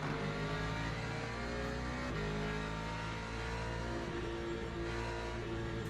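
A race car engine in the Le Mans Ultimate racing game drones steadily, a continuous harmonic roar held at a constant level without obvious gear changes.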